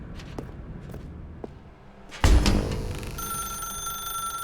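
A telephone rings in The Stanley Parable video game: a few footsteps come first, then a loud thump and a sustained electronic bell ring that continues steadily, with no talking.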